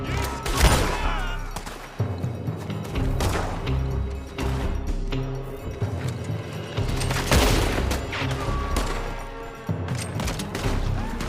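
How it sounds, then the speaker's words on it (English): Loud gunfire rings out from a building in the Red Dead Redemption 2 video game, with repeated bursts and booming shots rolling through a busy, dense mix for the whole stretch. "They're shooting from that building!"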